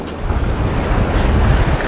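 Rough surf at the Surfside jetty churns with a loud, continuous low roar of waves, buffeted by wind rumbling against the microphone.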